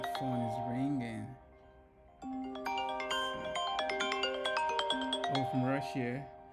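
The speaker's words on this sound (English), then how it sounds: "Oh, my phone is ringing." A mobile phone rings with a bright electronic melody of repeating tones that plays for several seconds, with a person talking just before and after it.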